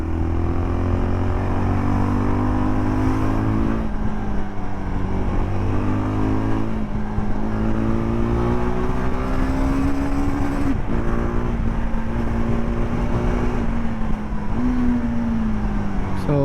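Jawa Yezdi Adventure motorcycle engine droning steadily while riding, its pitch climbing and easing as gears shift near 6000 RPM, loud and close with wind rush and no talk.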